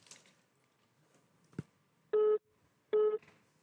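Two short, loud busy-signal tones from a phone-in line after a caller dropped off, heard after a quiet stretch with faint background noise.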